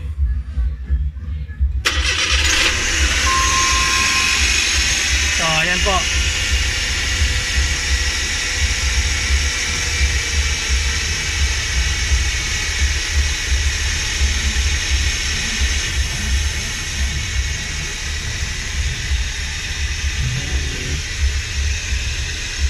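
A Suzuki Every Wagon DA64W cranks and starts up, then settles into a steady, loud idle with a faint chime early on; someone speaks briefly over the running engine.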